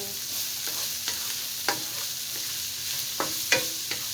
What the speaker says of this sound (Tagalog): Niluto ko muna yung giniling para matanggal-tanggal yung amoy niya.